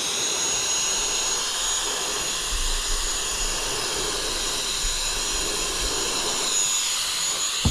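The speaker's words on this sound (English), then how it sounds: "Let me get my blower and blow this thing out." An air blower roars steadily throughout, a loud continuous rushing hiss blasting dust out of a PlayStation 2 console being repaired for a no-power fault; no talking.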